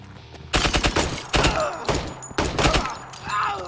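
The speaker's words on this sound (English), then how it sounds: "Oh, look at you guys shooting through the windows, too." Gunfire rings out in the tactical video game Door Kickers 2: Task Force North, in loud, rapid bursts of shots with short gaps between them, close and punchy.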